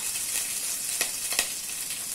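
Okra slices frying in oil in a pan, a steady soft sizzle throughout with two brief sharper crackles or stirring scrapes near the middle, no voices.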